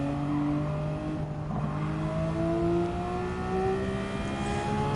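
A car engine revs in Gran Turismo 7, a loud continuous whine that climbs and shifts pitch through the gears, with steady road and tire noise beneath and no talking.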